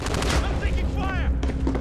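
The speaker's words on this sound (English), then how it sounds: "I'm taking fire!" Gunfire in Call of Duty, with a continuous dense spray of shots and bursts over a busy game soundscape, while a voice speaks briefly in the mix.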